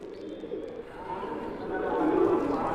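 Black Saharanpuri pigeons coo softly in a low, rolling murmur that swells toward the end, heard in a quiet loft-like setting with a faint background hum.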